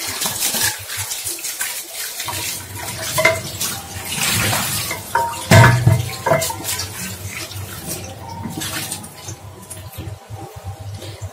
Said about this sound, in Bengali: এইটা আমি এখন ধুয়ে দেখাবো আপনাদেরকে।